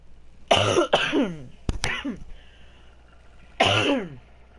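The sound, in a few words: man coughing and clearing his throat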